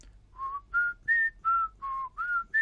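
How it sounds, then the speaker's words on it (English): A person whistles a run of seven clear sustained notes, each one sliding up or down in pitch. The notes step higher and lower with short gaps between them, heard close and alone with no talk. "there's some very obvious pitch changes occurring in the whistle"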